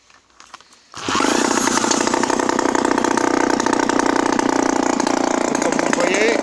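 A Peugeot 103 moped engine restarts after a second of quiet, catching at once and settling into a loud, steady, buzzing two-stroke idle close by, with the idle set slightly low.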